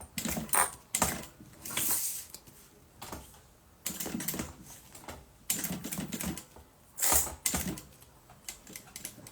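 A sewing machine runs in short bursts, stitching forward and then backstitching where the seam began, on a small silicone pouch project. Separate whirring, clattering runs with brief pauses between them sound close and moderately loud.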